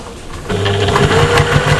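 A sewing machine starts up after a brief pause and runs a steady, close, rapid stitching whir through multiple layers of a patchwork shopper bag.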